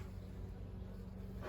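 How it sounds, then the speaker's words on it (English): Honey bees buzzing around an open hive during an inspection, a steady low insect hum that fills the short stretch, fairly quiet and with no talk. "The bees have noticed something's going on"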